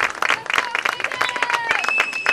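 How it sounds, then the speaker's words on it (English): Audience applauding at a school basketball game, a steady patter of clapping from the crowd mixed with a commentator talking over it. "getting a lot of applause from the listening audience, the viewing audience"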